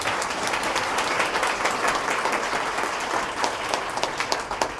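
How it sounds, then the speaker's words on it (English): An audience claps together in a steady, dense round of applause that holds at an even level for several seconds. It is close and full, with no voices heard over it. "Let's give them another round of applause to them."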